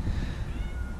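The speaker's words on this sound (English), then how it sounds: "I said that's my cat." A pet cat lets out a single drawn-out meow, close and moderately loud, with a soft low rumble of room noise underneath.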